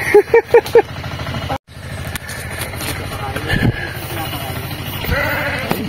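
Dorper sheep bleating on a farm, several quick close bleats at the start followed by more scattered calls amid voices talking and a low engine hum in the background.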